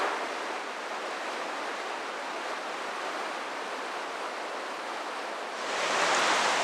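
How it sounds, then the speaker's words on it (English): River stream flowing in full daylight, a broad steady rushing hiss of water, constant and moderately loud, swelling a little brighter near the end, with no voices. "Here you can see the river stream."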